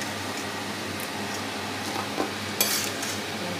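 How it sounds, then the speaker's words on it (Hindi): Pieces of besan barfi fry in hot oil in a pan, a soft continuous sizzle with a few light clinks of a utensil near the end, no voices. "हम सारी बर्फी को फ्राई कर लेंगे"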